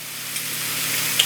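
A ribeye steak sizzles on a piping-hot Himalayan salt block, a steady, moderately loud hiss of frying fat with a couple of brief pops, no talking.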